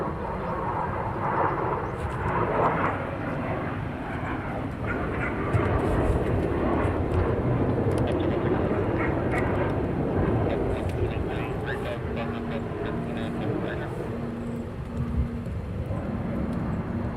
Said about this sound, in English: So next coming across the Charlie Point is another F-15.